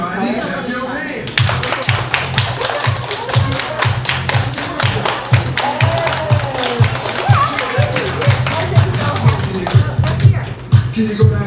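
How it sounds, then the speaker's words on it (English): Steady rhythmic hand clapping from a group keeps time over loud cha cha dance music, with regular thumps of the beat underneath throughout, beginning after a short stretch of music alone. "Everybody clap your hands."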